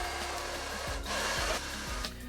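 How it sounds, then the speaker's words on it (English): A hair blow dryer runs in a steady, close whooshing roar as it dries a wig, with a few soft thumps and rattles over the constant airflow. "Take your blow dry and just make sure everything's set and dry"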